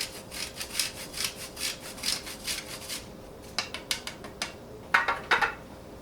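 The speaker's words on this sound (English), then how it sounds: "now you can get your tiny grater and top it off with a shredded chocolate" A tiny grater scrapes chocolate into shreds over a mug of boozy hot chocolate, a soft rhythmic rasping in steady strokes, then a few sharper, sparser scrapes and light clicks near the end, faint and close.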